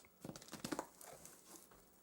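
A Case XX pocket knife slices packing tape on a shipping box, making brief crinkling and tearing rasps in a few quick bursts, faint and close, with no voices.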